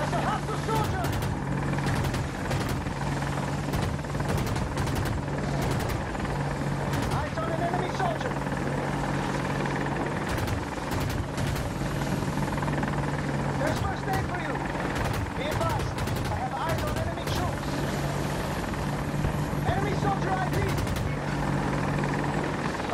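An AH-64 Apache attack helicopter in Battlefield 2042 Conquest on El Alamein rumbles steadily with a constant low rotor drone, overlaid by scattered bursts of gunfire and clicks throughout.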